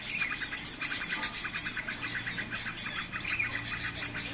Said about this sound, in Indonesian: Pelatik kencang banget suaranya, pelatik batu ini.